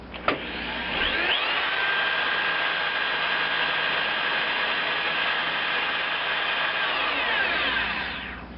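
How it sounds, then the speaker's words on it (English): A power drill whirs steadily at constant speed for several seconds after a brief click at the start, loud and close, turning the axles of a Craftsman LT1000 lawn tractor. "I can power up the drill"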